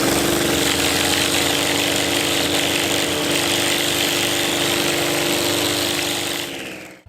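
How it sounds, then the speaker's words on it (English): A string trimmer runs at steady high revs while edging a lawn along paving, a loud, close buzzing whine with a whirring line that holds constant for about six seconds, then the engine winds down at the end. "When you notice the trimmer line is starting to hit the lawn, that's when you run in a straight line along the curb."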